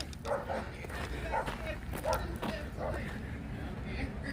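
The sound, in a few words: puppy barking in a vehicle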